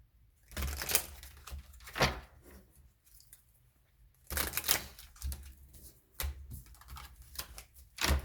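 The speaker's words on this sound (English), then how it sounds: "That's the worst shuffle ever." Quiet bursts of rapid fluttering clicks as a deck of cards is shuffled several times, with short pauses between riffles.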